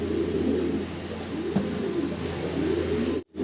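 Fancy pigeons cooing at a Bangladeshi seller's loft, soft repeated throaty coos rising and falling in a steady rhythm, close and clear, with a brief dropout near the end.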